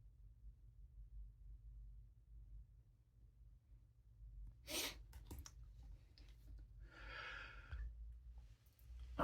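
A single forceful human sneeze bursts out of a quiet room, preceded by a sharp intake of breath and followed by a brief snort and breathy exhale, close to the microphone.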